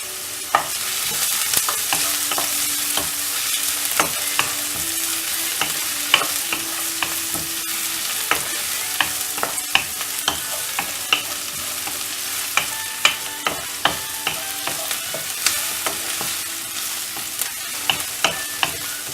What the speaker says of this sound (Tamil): இப்போது வெங்காயம் ஆட் பண்ணிவிட்டு இதை நல்லா வதக்கிடலாம்.